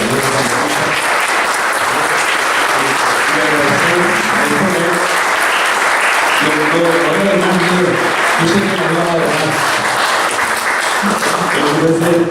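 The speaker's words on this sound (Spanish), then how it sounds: "Quiero un aplauso para esto" A lecture-hall audience applauds at a Spanish-language book presentation, dense steady clapping filling the room for the whole stretch with a murmur of voices beneath it.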